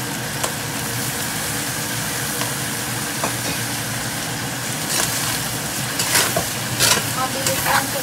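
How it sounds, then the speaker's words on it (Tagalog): Sliced pineapple goes into a pan of Bicol express pork that is already cooking, and it sizzles loudly and steadily up close. Stirring scrapes and small clatters come through over the frying. "hiwang pinya, ilagay na natin."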